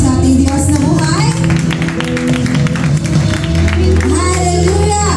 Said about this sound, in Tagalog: Isa pa nga pong palakpak sa ating Diyos na buhay.